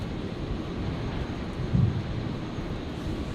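An Air Canada airliner departs Brisbane airport as a steady, distant broadband roar with a brief low swell midway.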